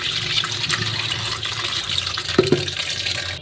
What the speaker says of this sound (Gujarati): અને ઉપર સીધું જ ઠંડુ પાણી ચાલુ કરી દેવાનું